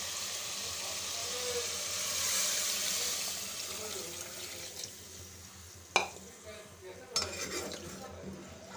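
Water being poured into a pot of browned beef nihari, a steady pouring and stirring sound with a few metallic clinks of utensils against the pot near the end.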